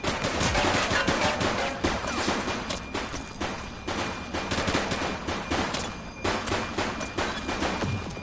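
Gunfire in The Precinct on PS5, dense rapid volleys of loud shots overlapping continuously in a sustained firefight, with no pause in the shooting.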